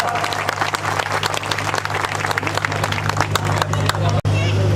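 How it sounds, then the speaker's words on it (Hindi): Loud, sustained applause from a large crowd welcoming the state governor at a statue unveiling ceremony in Farida Bangar village; dense, continuous clapping that briefly cuts out near the end before resuming. "जोरदार तालियों के साथ उनका स्वागत।"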